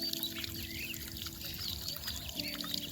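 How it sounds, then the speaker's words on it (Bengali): A homemade mini water pump powered by a 12-volt battery shoots a steady jet of water that pours and splashes continuously, with a constant low motor hum beneath the close, even rush of liquid. "জলের ফোর্সটা দেখো এবার কত দূরে যাচ্ছে"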